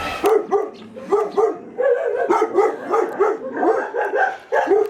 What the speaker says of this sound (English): I set off all the dogs barking